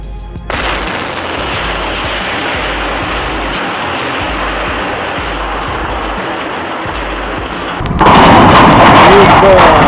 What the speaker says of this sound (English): the last remaining part of the coal washing plant at the Walsum mine in Duisburg was demolished by controlled explosion